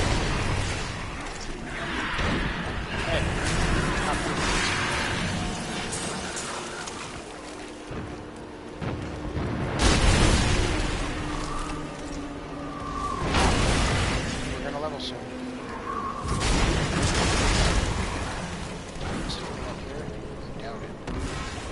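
Enemies burst in small blood explosions as they die in the Diablo 3 video game, giving repeated heavy booming thuds amid dense combat noise, with a voice talking over them.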